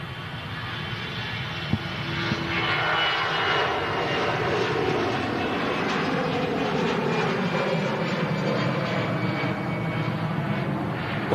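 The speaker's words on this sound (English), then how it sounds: "that's the first departure for today, on its way out to Munich in the Star Alliance" Airplane departing toward Munich, its engines a steady broad roar that holds loud and continuous throughout, with a brief low hum near the start and no talk over it.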